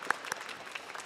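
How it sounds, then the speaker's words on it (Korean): Brief burst of applause from a church congregation at a Sunday service, a few sharper claps standing out near the start over a soft, dense patter. "서로 축복의 박수 함께 보내셨으면 좋겠습니다."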